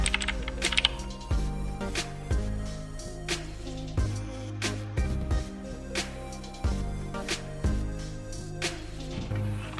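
Fast, uneven typing on a Royal Kludge RK61 60% mechanical keyboard with blue switches, sharp clicky keystrokes close up in bursts with brief pauses and no talking.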